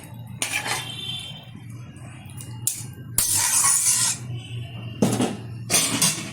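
A metal spoon stirs fried bata fish curry in a pan, with scraping strokes and clanks in several bursts and quieter simmering between them.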